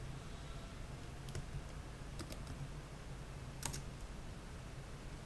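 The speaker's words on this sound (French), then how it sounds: "on va seulement taper la commande reload" Keys clicking on a computer keyboard as a command is typed, a few faint scattered taps over a steady low hum.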